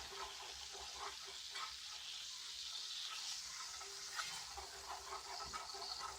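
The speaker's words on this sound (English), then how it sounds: "We're going to take this and we're now going to whisk it right on in there." Flour whisked into a hot pan while making chicken fried steak gravy, a faint, steady hiss with soft rhythmic whisk scrapes and light taps, close but quiet, with no talking.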